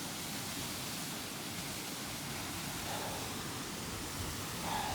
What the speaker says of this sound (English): Another cool waterfall.